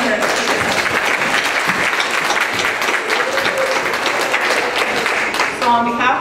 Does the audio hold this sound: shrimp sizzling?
no